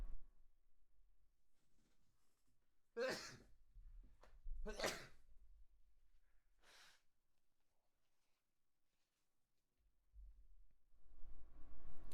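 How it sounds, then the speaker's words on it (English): A person sneezes twice in quick succession, sharp and close, with a third softer burst a little later in an otherwise quiet room. "Excuse me, I need to sneeze."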